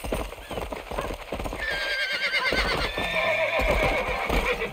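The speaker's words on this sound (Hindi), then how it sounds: "चलो घोड़े मेरे, टिक टिक टिक टिक, आजा मेरे घोड़े" Horse hooves clip-clop steadily throughout in the Red Dead Redemption video game, with a drawn-out neigh and whinny rising over the galloping from the middle of the clip onward.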